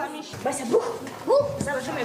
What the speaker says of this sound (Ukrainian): радісно граються із собакою